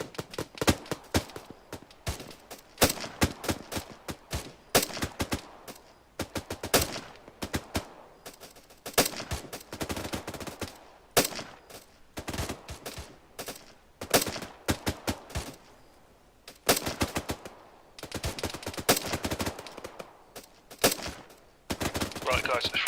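Rapid bursts of gunfire from a military video game battle, with dense, sharp shots crackling in quick succession throughout, sometimes pausing briefly before resuming.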